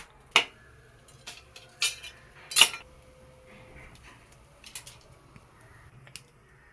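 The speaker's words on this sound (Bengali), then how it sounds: "এবার শুকনো কড়াইতে এটা ভাজবো" Salted, briefly soaked rice is dry-roasted in a dry kadai (wok), giving sparse, sharp metallic clinks and light scrapes from the spatula at irregular intervals over a quiet background.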